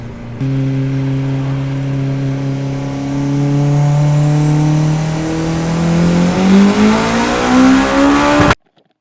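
A loud 700hp Honda S2000 engine revs steadily higher, its pitch climbing over several seconds like a racing car accelerating, then cuts off abruptly.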